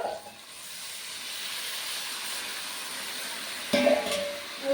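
Water hits a pot of frying mutton curry and bursts into a loud steamy hiss, a broad sizzle that holds steady with a brief sharper surge near the end.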